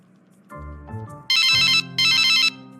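Electronic telephone ringtone: a short low melodic tone sequence, then two loud bright ringing bursts, clear and close with no talk over it.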